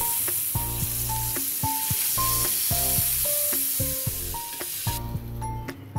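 Butter sizzles on a hot tawa while a homemade cheese pizza is being made. A steady, bright hiss runs throughout, alongside a tonal musical pattern, with no one talking.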